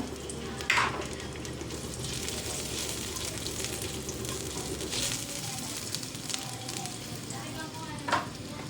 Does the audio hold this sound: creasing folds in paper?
no